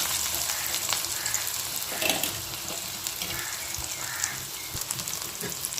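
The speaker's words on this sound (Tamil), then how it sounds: "இந்த வெங்காயத்தை சேர்த்து நல்லா வதக்கிக்கணும்" Steady crackling sizzle of chopped onions frying in hot oil for an okra dish, continuous and close, with occasional stirring clinks and no voices.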